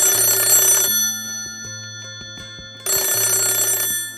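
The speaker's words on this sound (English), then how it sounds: "the phone rang" A telephone bell rings in two loud bursts separated by a quiet gap, close and clear with no voices over it.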